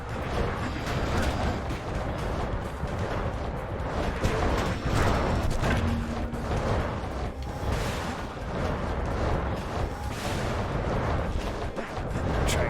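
Rocket fire in the video game Bastion booms in repeated heavy blasts over a dense, continuous roar of battle.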